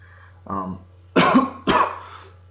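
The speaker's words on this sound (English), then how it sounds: "Been dealing with a little bit of a cough with the weather change" A short vocal sound is followed by two loud, harsh coughs in quick succession, close to the listener.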